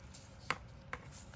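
Two quiet crisp cuts of a knife through hard, dry birch mushroom, evenly spaced, against a faint steady background hiss.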